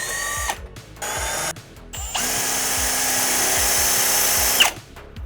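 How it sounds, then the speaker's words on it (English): A power drill whirs in short bursts on stuck screws on a rough Suzuki Katana motorcycle, then runs in a long sustained whine, its pitch shifting as the motor labors against resistance. "I just can't get these screws out and they won't even drill."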